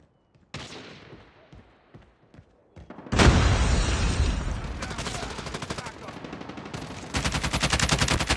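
Frag grenade blast followed by sustained automatic gunfire in the Call of Duty Mobile video game, loud and close, with a sharp boom then rapid continuous bursts.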